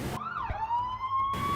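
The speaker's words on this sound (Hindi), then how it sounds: "ये पुलिस के सायरन की आवाज सुनाई दे रही है तुम्हें?" A police car siren wails loud and close in a single rising and falling sweep that then holds a steady high tone, heard alone without speech.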